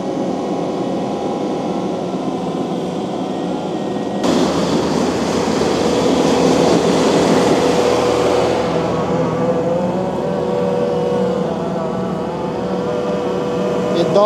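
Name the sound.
skid steer working through thick overgrowth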